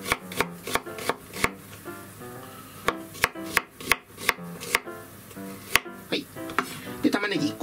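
A knife chops onion finely on a cutting board in quick, uneven bursts of sharp taps, close and clear, with short pauses between runs of strokes.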